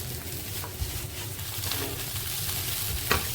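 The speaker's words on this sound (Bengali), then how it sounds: "এবার চিকেনটা সহ 2 থেকে 3 মিনিট আমি একটু ভেজে নেব" Chicken pieces fry with stirring in a pan, giving a steady close sizzle with scraping stir strokes throughout and no talk.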